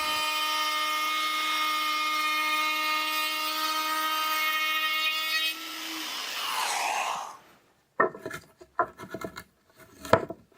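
A router on a sliding router table cuts through a board: a steady, high, loud motor whine runs for about five seconds, then turns into a rougher rushing cut. After a short silence come a few scattered knocks and scrapes.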